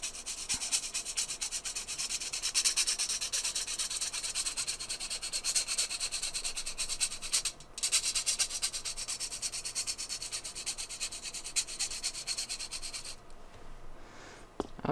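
Staedtler and Koh-I-Noor watercolor pencils grated against a rough surface, a steady close-up dry rasping scrape of even intensity, briefly pausing midway before continuing, then thinning out near the end; no talking.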